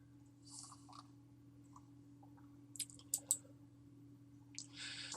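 A computer mouse gives a few quick, faint clicks in a small cluster over a steady electrical hum, close and quiet, with a couple of soft rustles around them.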